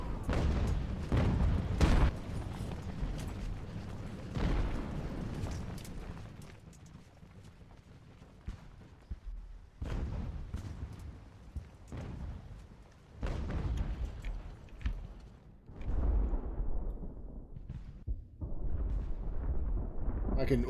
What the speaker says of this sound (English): Now our mortars start lobbing shells into the fort.